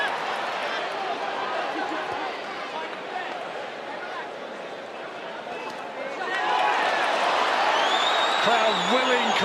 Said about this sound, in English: Crowd willing Conlan on.